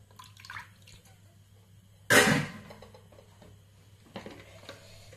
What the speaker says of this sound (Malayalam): അപ്പം നമുക്കതിലേക്ക് ഒരു അര ഗ്ലാസ് വെള്ളം ഒഴിച്ചു കൊടുക്കാം